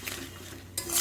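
Tomato and spices being stirred and sautéed in a pan with a little water: quiet, close scraping and clinks of a utensil over a faint sizzle, brief and alone without speech.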